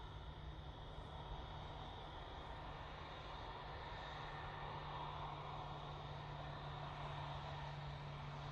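A KLM Airbus A321neo taxiing at Manchester Airport gives a steady, distant engine rumble with a constant low hum, continuous and unbroken throughout.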